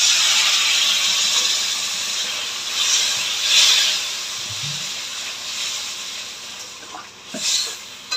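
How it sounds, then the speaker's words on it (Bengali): Water poured into a pan of soybean, potato and pointed gourd curry sets off a loud hissing steam burst that swells, eases and flares again, with faint clatter underneath and no speech. "এবার জল দিয়ে দেবো।"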